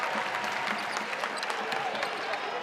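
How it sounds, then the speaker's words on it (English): A women's college basketball crowd at a Syracuse versus North Carolina game gives a standing ovation, dense clapping and cheering rolling on steadily at a moderate distance. "Standing ovation from this crowd."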